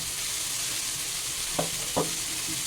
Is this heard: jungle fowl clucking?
no